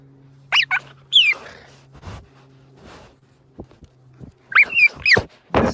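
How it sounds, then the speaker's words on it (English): A cheetah gives several sharp, high bird-like chirps, close and loud, in scattered pairs separated by soft thumps and a faint background hum. "This is called chirping."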